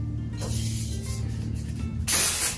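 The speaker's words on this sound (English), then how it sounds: "and give it a good spray" Continuous aerosol hiss of hairspray spraying close by onto hair with clip-in extensions, with a brief pause and a louder, brighter final burst near the end.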